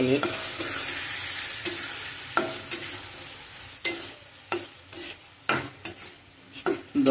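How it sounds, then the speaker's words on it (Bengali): Chicken pieces being stir-fried in a curry base in a pan, a constant sizzle punctuated by sharp, irregular scrapes and clanks of the spoon that grow more frequent toward the end. "মাংসটা দেওয়ার পরে মাংসটা ভালো করে কষাতে হবে"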